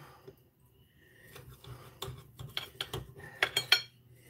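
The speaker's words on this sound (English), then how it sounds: "So I'm going to cut this up and then slide it over next to those potatoes" A knife and fork cut chicken fried steak on a plate, starting quiet and building into a quick run of close metallic clinks and scrapes against the dish in the last two seconds. No one speaks.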